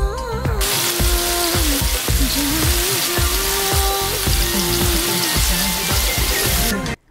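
Paneer pieces roast in a little oil with red chili and coriander powder, giving a loud, steady close-up sizzle and crackle with a rhythmic scraping of a spoon or spatula running throughout.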